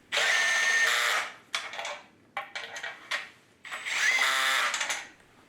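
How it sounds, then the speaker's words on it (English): A cordless drill fitted with a 1/4" drive adapter and set to its lowest torque winds in bolts on an Austin Mini's sump and spacer, giving several whirring bursts, long at first, then short stuttering spurts, then one sustained run. "A 1/4" drive adapter in the end of your drill set to the lowest torque makes winding in lots of bolts"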